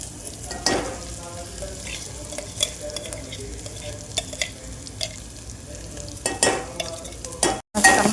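A ground peanut and chili paste sizzles and fries in a pan for fasting spicy bhagar, with steady close sizzling broken by repeated spoon stirring and scraping strokes.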